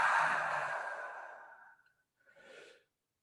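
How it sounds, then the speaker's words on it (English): A long, audible breath pushed out through the mouth during a guided breathing exercise, loud and close at first and then fading, followed by a short softer breath. "Exhale through the mouth."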